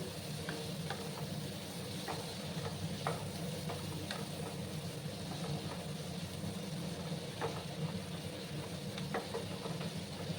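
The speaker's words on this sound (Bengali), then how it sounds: "4 থেকে 5 মিনিটের মতো এটাকে ভাজবো আমি" Bitter gourd frying in a pan produces a soft, even sizzle with faint crackles and a low background hum, quiet and constant.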